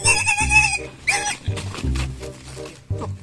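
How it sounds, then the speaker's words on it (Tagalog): A pig that is hard to catch lets out repeated loud, close grunts and squeals in uneven bursts, with harsh higher cries over lower rumbling noises. "baboy yan no?"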